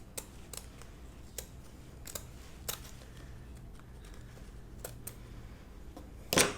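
Scissors trim paper for a handmade junk journal, giving a scattered series of sharp, quiet snips and clicks spaced irregularly in a quiet room, ending with a louder rustle.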